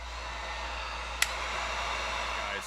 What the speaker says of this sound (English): Hit it with the heat gun, a little more controllable.